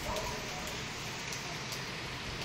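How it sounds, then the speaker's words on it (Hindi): Rain falls steadily outside, a dense continuous hiss of drops that is loud and even throughout, with no talking over it. "देखो बारिश आ गई"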